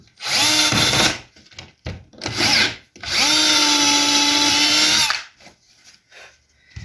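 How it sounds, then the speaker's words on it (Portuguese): Power drill with a 6–7 mm bit boring a hole, loud close whining bursts starting and stopping, with one long sustained run in the middle and short pauses between. "Utilizo uma broca de 6 ou 7 milímetros, entre essa média, para você fazer o furo"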